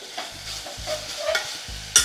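Ginger, garlic, green chilli and onion frying in a pot for chicken biryani, a soft steady sizzle with repeated scraping stir strokes and a sharper clink near the end, no voices.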